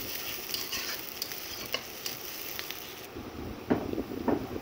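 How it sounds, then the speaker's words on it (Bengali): Chopped onions fry in hot oil in a pan, giving a faint, steady sizzle and crackle with occasional soft stirring scrapes, close and quiet, with no speech. "তেল গরম হয়ে গেছে, আমি এখন পেঁয়াজটা দিয়ে দিলাম। পেঁয়াজটাকে এখন লাল লাল করে ভেজে নিব।"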